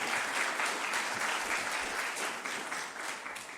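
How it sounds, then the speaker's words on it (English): Applause for Mayor Ginter at the 2023 Columbus Hall of Fame ceremony: dense, sustained clapping from a sizeable audience, steady throughout and tapering slightly near the end. "I would like a round of applause for our Mayor Ginter"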